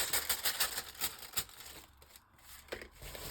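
Paper torn along a ruler to take out a piece for a journal page, giving a rapid crackling rip that comes in bursts and then trails off.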